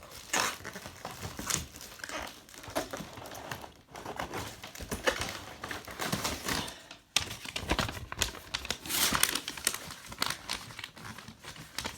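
Paper crinkling and rustling in bursts while an Aeroflot Phoenix A320 model airplane is unboxed, close and fairly steady with brief pauses, no talking.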